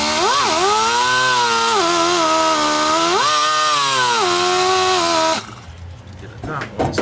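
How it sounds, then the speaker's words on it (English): A brass wire wheel on a grinder scrubs the fuse box of a 1954 VW Bug, a loud, steady motor whine rising and dipping in pitch as it bites, then cutting off sharply near the end, leaving quieter rustling. "I got a brass wire wheel on a grinder."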